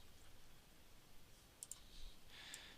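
A few soft, quick computer mouse clicks during a drawing task, faint and sparse over a low background hiss, with no talking.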